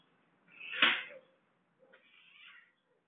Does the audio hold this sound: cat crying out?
yes